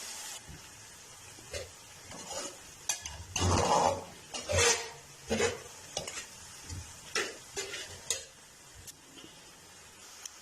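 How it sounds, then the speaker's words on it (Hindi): Tomatoes stirred and fried in a pan, a spoon scraping and clacking in irregular bursts over a quiet background sizzle, heard up close with no talking. "अच्छी तरह टमाटरों को जो है भून लेंगे 3 से 4 मिनट के लिए।"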